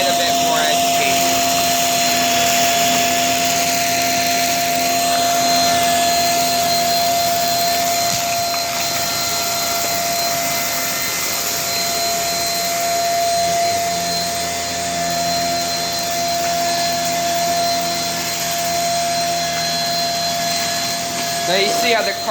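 Shark Rocket vacuum cleaner with its powerhead running on padded carpet, a loud steady whine and roar sustained throughout at close range with slight shifts in pitch as it moves.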